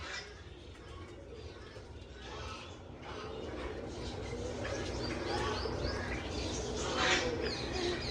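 A pair of black Cheena pigeons coos softly in a loft amid low background rumble and faint chirps, with brief indistinct human voice sounds mixed in.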